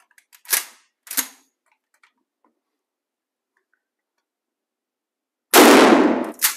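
A 12 gauge Shockwave shotgun fires at balloons outdoors, one loud sharp blast near the end after a couple of faint clicks and knocks, with no talking.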